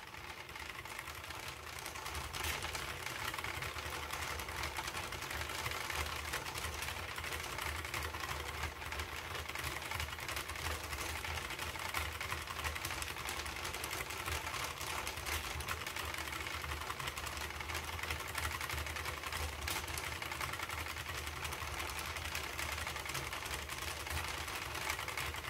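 A 48-needle Sentro knitting machine being cranked gives a continuous fast mechanical whirring and clicking, steady and fairly quiet throughout, with no voices.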